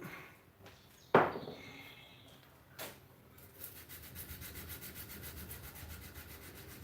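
Rust is sanded off the ricasso of a knife blade by hand: a sharp knock and a few scuffs come first, then a steady, fast back-and-forth rasping settles in and continues close and fairly quiet.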